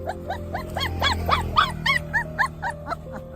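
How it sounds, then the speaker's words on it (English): A frightened little dog stuck between two pipes whimpers and cries in a rapid series of high, rising yelps, about a dozen in quick succession, close and fairly loud over a low background rumble. "The dog was likely injured, as it was crying when the people tried to move the pipe."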